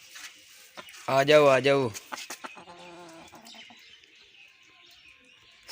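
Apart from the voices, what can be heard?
rooster clucking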